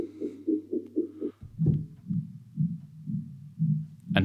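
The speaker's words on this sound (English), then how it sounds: "Here's the sound an octave lower." A tape delay sample played an octave lower in software sounds as a low, soft pulsing hum, a rapid run of repeats followed by slower, deeper throbbing echoes, close and clean with no talk.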